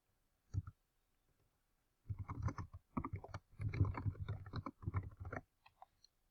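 Typing on a computer keyboard, close and fairly quiet: one brief click, a pause, then a run of quick irregular keystrokes lasting a few seconds before a last stray tap.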